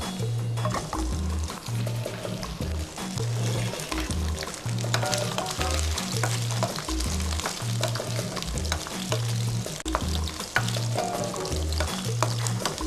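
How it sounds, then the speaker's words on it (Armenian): Steady sizzling and crackling of thin sausages frying in oil in a pan, close and continuous, with a low rhythmic beat running beneath it. "Եվ տապակում ենք նրբ երշիկները։"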